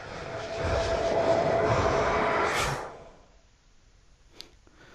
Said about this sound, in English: Noriega's plane is fucking ready to go!